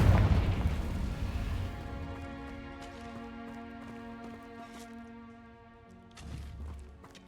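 A Confringo spell explodes in the video game Hogwarts Legacy: a boom at the start decays into a long, ringing magical tone, and a second low thump lands near the end.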